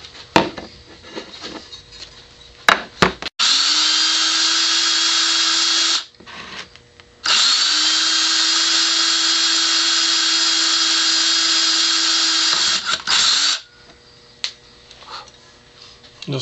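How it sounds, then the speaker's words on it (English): Small drill bit boring a pilot hole into a metal case, two sustained high whining bursts of a few seconds each with a steady pitch, separated by brief pauses and preceded by a few ticks and clicks. "I'm just going to drill a little pilot hole."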